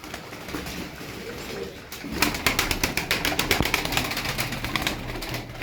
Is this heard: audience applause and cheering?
no